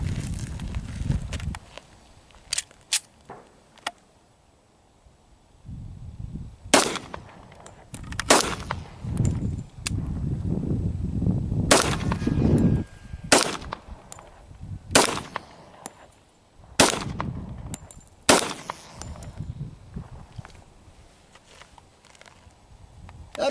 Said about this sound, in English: Not a bad shooting little gun.